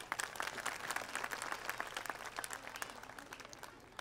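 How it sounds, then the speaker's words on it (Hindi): Audience clapping at a school annual day function, a continuous patter of many hands that is fairly faint and distant, with sharper claps popping out before it eases off toward the end. "ताली बजा दीजिए एक बार।"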